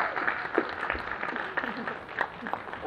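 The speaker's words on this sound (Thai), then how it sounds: "ขอเสียงปรบมือกันอีกครั้งได้ไหมครับ" Audience applause at a Netflix series press launch event, a steady wash of many hands clapping together for a few seconds, fairly loud and close.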